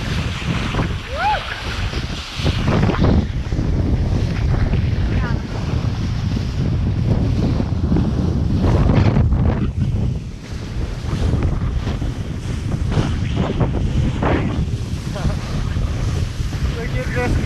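Strong gusty tropical-storm wind roars across the microphone while riding a 10-meter kiteboard kite on open water, a loud continuous buffeting rush with surging gusts and surf noise throughout.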